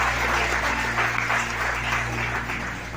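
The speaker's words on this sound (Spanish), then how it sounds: "Damos un fuerte aplauso a Cristo." Church congregation applauding during a Spanish-language sermon, a continuous wash of clapping over a steady low hum, fading slightly toward the end.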